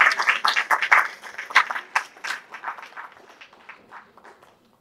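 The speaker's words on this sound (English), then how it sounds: "a big round of applause to you" An audience at an Onam community celebration claps in a dense, lively burst that starts loud and thins out gradually to a few scattered claps before fading away.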